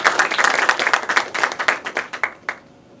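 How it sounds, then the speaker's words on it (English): An audience applauds at a talk event, a dense burst of clapping from many hands that quickly thins to a few scattered claps and fades out within about three seconds. "How about a round of applause for our MC team?"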